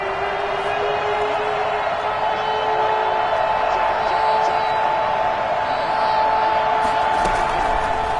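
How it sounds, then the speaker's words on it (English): Football stadium crowd at a Steelers vs Jaguars game, a steady broad roar of cheering with scattered whoops throughout, continuous and fairly loud with a faint tonal hum running underneath. "Crowd getting in it a bit already."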